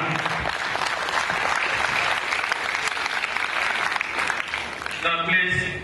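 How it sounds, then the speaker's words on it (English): Crowd applauding at a ceremony honouring royal fathers, sustained dense clapping close by with a voice speaking over it, then a voice takes over at the end. "Now, please, we don't clap for royal fathers,"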